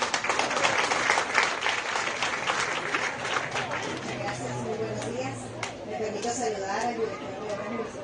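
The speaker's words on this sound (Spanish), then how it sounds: "Un aplauso, por favor." Sustained applause from an audience at a project inauguration event, loud and dense throughout, with crowd chatter and voices mixed in beneath the clapping.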